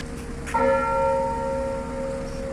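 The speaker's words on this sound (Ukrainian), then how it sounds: "Дзвін Хмельницького свято-Георгіївського храму дзвонить з Владиславом Біловим, бійцем 1997 року" A single strike of the bell of St. George's church in Khmelnytskyi, Ukraine, rings out clearly, its tone lingering and slowly fading over a quiet background.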